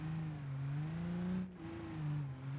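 Simulated Cummins-powered Galaxie engine in a driving game, revving steadily with rising and falling pitch and a brief dip mid-way, as throttle is gunned and the rear end slides, loud and continuous with no talking.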